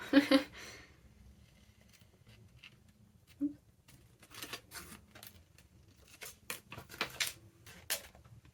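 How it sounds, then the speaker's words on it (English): Small scissors snip paper in scattered, crisp cuts, quiet and close, with someone speaking briefly at the start while making a junk journal. "Don't know why I chose the small scissors for this"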